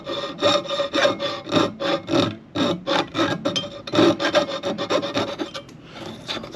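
Jeweler's saw frame with a 3-inch throat cutting through metal sheet, a steady rasping stroke repeating about twice a second, close and fairly loud with no talk.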